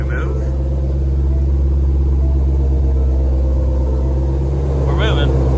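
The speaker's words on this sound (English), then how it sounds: "I'm gonna turn the parking brake off again, put it in reverse, and hopefully we move." A Shelby GT500 backing up in reverse after the parking brake is released gives off a constant deep engine rumble that stays loud and close throughout.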